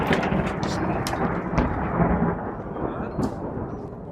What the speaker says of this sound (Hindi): अचानक वहां जोरदार कड़क के साथ बिजली गिरी